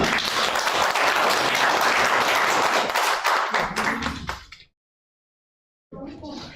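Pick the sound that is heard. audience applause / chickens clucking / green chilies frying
audience applause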